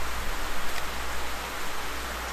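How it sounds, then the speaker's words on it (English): Steady rain pours in a video game, a dense even hiss of falling drops filling the clip at constant loudness with no voices. "So, anyway, here we are in the rain."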